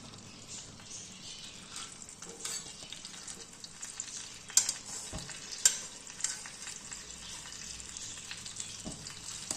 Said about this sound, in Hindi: अब मैंने एक तवा लेना है और उसके अंदर मैं ऑयल या घी डाल रही हूँ